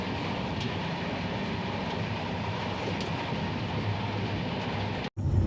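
Steady rumble and clatter of a passenger train rolling through West Bengal toward Siliguri, a dense continuous drone with a brief cut near the end.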